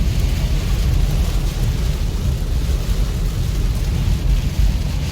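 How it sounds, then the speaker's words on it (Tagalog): Heavy rain pours in a dense, steady roar of broadband noise with deep rumbling underneath, continuous and loud from start to finish. "Ang lakas ng ulan."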